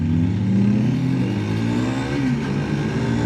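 A 2022 FB Mondial SMX125 motard's 125cc single-cylinder engine pulls hard under acceleration, a loud, continuous mid-pitched drone rising steadily with a brief shift dip partway through.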